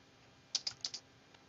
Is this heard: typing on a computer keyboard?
yes